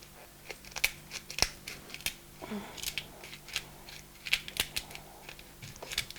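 A salt and pepper mill grinds while homemade mayonnaise is being seasoned, making irregular, sharp crackly clicks and short gritty bursts close by, with brief pauses between twists and no voices.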